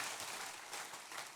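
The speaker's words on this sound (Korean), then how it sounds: "박수로 환영하도록 하겠습니다." Congregation applause at a Sunday church service welcoming a new family member, a steady, even wash of clapping from many hands filling the room with no voices over it.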